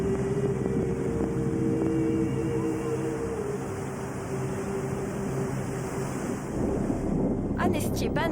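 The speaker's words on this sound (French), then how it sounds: "Il y a beaucoup de vent." Strong Patagonian wind roars continuously, buffeting close against the microphone with a dense, rushing turbulence, while a brief voice cuts in near the end.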